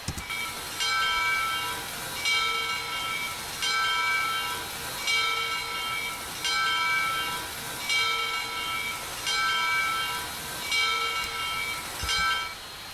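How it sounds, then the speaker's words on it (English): In the Trainz game, the locomotive bell of the Southern 630 steam engine rings in a steady repeating rhythm, about eight even strokes, clear and close over a faint hiss. "And here's the bell with the amazing bell animation."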